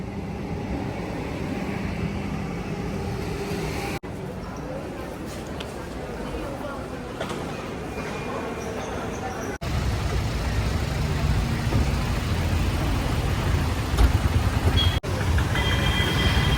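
Busy platform ambience at Kannur railway station in Kerala: a steady low rumble of trains and traffic with crowd murmur, shifting across abrupt cuts, while a person talks over it throughout.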